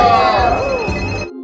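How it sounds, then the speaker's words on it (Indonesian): A telephone bell rings loudly and close by in a Russian mafia action film, with a rapid repeating trill that continues alone for over a second before cutting off abruptly. "ketika Julian mendapatkan hubungan telepon"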